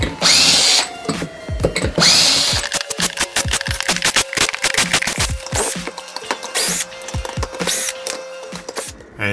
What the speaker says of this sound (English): You just take an eyelet like this and you're going to chuck it right up inside of the drill here.